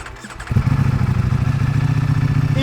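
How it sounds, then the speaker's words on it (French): Ducati Streetfighter V4S V4 motorcycle engine catches after a brief starter whir, then settles into a loud, close, throbbing idle with a rapid steady pulse and no talk. "donc je m'en vais vous réveiller ce V4"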